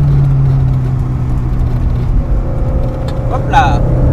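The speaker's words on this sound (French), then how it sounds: "Vas-y, accélère." An Alpine Berlinette A110 revs hard on the Montlhéry circuit, a loud, close engine drone climbing in pitch from a steady low hum, with a voice briefly audible near the end.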